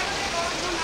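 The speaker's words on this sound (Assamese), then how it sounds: "বৰষুণ দি আছে, বহুত ধাৰাসাৰে বৰষুণ।" Heavy rain pours down outdoors, a dense, even hiss filling the brief moment at steady loudness.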